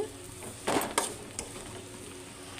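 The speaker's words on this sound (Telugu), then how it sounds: "ఇది కూడా నూనెలో కొంచెం మంచిగా ఫ్రై అవ్వాలండి" Tender tamarind leaves frying in hot oil for a raw dal curry, giving a steady soft sizzle with a few sharper bursts of stirring and pan clatter, close and without talk.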